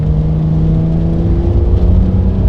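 Steady interior drone of a Porsche Carrera 992.2 with its 3.6 litre engine, a constant low hum with faint tonal whine, loud and continuous throughout without speech.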